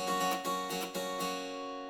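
A bright, open guitar chord rings out with full treble, a few strums blending into a sustained shimmering tone, clear and alone.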